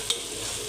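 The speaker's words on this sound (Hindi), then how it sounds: "इस प्याज को गोल्डन करेंगे" Sliced onion fries in hot oil in a pot, browning to golden for a homemade mutton korma, giving a dense, even sizzling hiss with one brief sharp tap at the start, close and unbroken.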